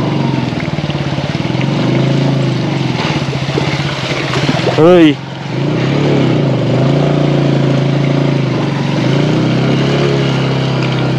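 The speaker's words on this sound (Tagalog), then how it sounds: "Umiikis yung motor" A motorcycle engine runs steadily and revs as its wheels spin and slip in a muddy rice field. Voices talk and shout over the engine, with a brief sharp exclamation midway.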